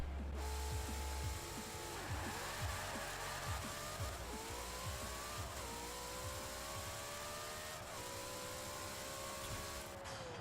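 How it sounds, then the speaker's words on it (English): A 1900 HP Ford Mustang launches with launch control in Forza Horizon 4, a steady loud engine roar climbing in pitch through several quick gear shifts, each dropping the tone before it rises again. "Right, let's pop it up on the line, just see what kind of launch we can get."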